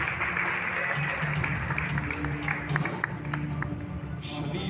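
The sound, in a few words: congregation applauding in church service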